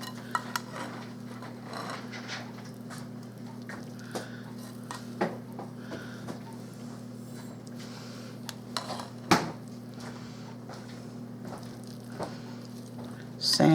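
Spoon scraping and clinking around a bowl while potato salad is stirred, with soft repeated taps and squishy mixing over a steady low hum, close and fairly quiet.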